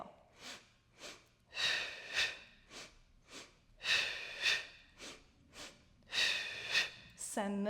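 Rhythmic, audible breaths in a mat Pilates class during a double breath hundred, with short paired inhales and exhales repeating steadily up close, and a voice briefly at the end.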